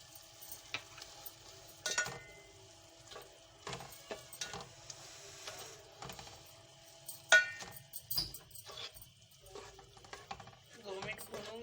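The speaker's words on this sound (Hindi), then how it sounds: "भूनूंगी मैं इसको टमाटर और मसालों के साथ" Qeema frying in a pan with whole green chillies, a soft sizzle under intermittent stirring and scraping clicks, close and quiet, with someone talking at times.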